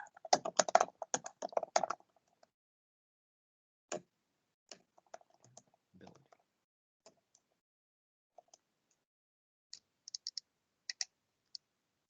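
Bursts of rapid computer keyboard typing, a dense flurry at first, then scattered single key clicks and short runs spaced apart, close and fairly quiet with no talking.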